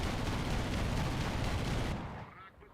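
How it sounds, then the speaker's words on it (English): A 37mm aircraft cannon in an air-combat video game fires a dense, continuous roar of rapid booming shots for about two seconds, then cuts off, leaving a fading tail. "I got this nice 37mm cannon to just blast someone out of the sky with."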